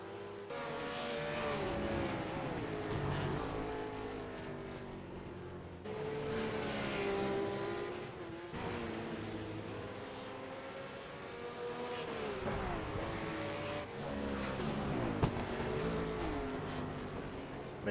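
RUF supercars race around Watkins Glen, engines revving and shifting as they pass in several waves, rising and falling in pitch over about eighteen seconds, heard from a distance and fairly faint.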